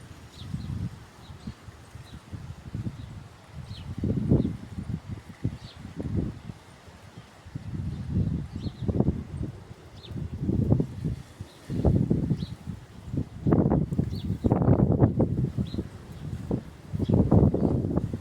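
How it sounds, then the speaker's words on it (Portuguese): Strong gusty wind in Garopaba, Santa Catarina, coming in repeated roaring surges that buffet the microphone and rustle nearby vegetation, with faint bird calls between the gusts. "Garopaba com ventão forte."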